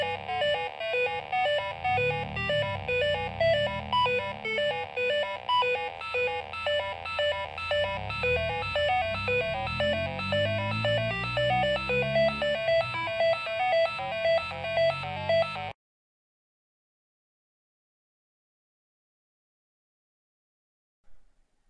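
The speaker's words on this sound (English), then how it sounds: "This is a basic sequencer that I made from scratch, and I use an Arduino for it." A homemade Arduino-based sequencer synthesizer plays a fast, repeating electronic note pattern with buzzy tones and sweeping low notes for about fifteen seconds, then cuts off to silence before a brief click near the end.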